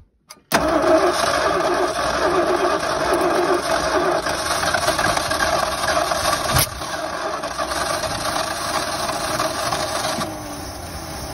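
A 1977 Ford F250 truck that has sat in a field for over ten years cranks briefly, then its engine catches and runs loud and close at a steady throttle, dipping slightly in level toward the end.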